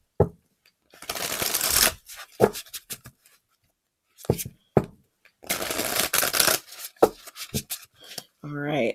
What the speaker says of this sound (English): So I'm gonna give him a good shuffle.